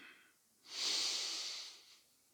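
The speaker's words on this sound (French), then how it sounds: "Et on expire par la bouche." A single deep exhale through the mouth during yoga breathing practice, a soft airy rush rising after a quiet inhale, held for about a second before tapering off, close and alone.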